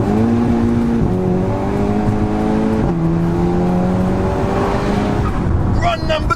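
A VW Golf GTI-R with a DSG gearbox launching hard on a timed acceleration run, its engine note climbing steadily through quick, stepped gear changes, loud and close, with a faint voice underneath near the end.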